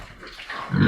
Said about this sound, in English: That is a Maxborough pig.